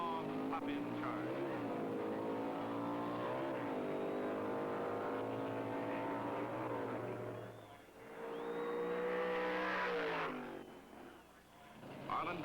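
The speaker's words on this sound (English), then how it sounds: "Sox proceeds to win top stock eliminator honors in his fleet Hemi Roadrunner, storming by this Mustang with a strong pop-in charge" A Hemi Plymouth Roadrunner drag-races past a Mustang at a top stock eliminator event, and the engines roar loudly and rise in pitch through the gears before a short dip and another surge, with narration over the sound.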